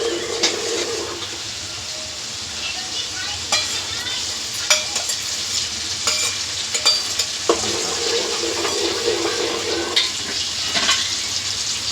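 Green chillies crackle in hot oil as a tempering for homemade methi dhokla. A continuous sizzle runs throughout, broken by scattered scraping and knocking of a spoon against the pan, with no voices.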